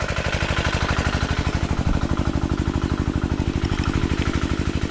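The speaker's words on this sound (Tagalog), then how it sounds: "umaandar na yung makina natin" A farm engine runs near a field being prepared for irrigation and planting, putting out a steady, fast chugging beat of evenly spaced pulses, close and unbroken with no voices.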